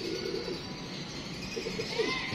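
Pigeons kept on a rooftop coo in soft, low murmurs that continue through the clip, with faint chirps mixed in and no voices.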